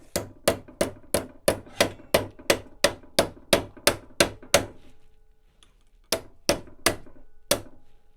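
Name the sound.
hammering a metal bracket held in a vise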